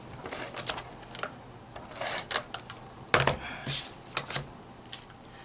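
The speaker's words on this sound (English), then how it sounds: "So I'm just going to put tape on these." Close crafting sounds as tape is applied to paper shaker cards: a scatter of sharp crackly taps and rips, irregular and quick, over a quiet room with no talk.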